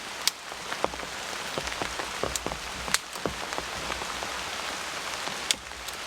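Steady rain drumming on a blue tarp shelter at a campsite, with a dense patter and occasional louder drips striking close by.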